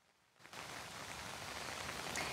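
Steady rain falls during a flood emergency in Queensland, a dense, even hiss of drops that starts suddenly after a brief quiet moment and continues without a break.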